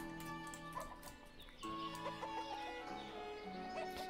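Chickens, including young hens raised from chicks, cluck and murmur nearby in a coop, with overlapping tonal calls that grow busier partway through and stay at a moderate level.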